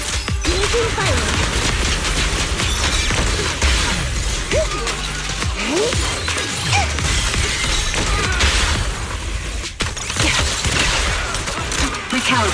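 Dense, continuous gunfire and crashing impacts from a Zenless Zone Zero battle, loud and relentless for the whole stretch, with brief voice lines now and then under the noise.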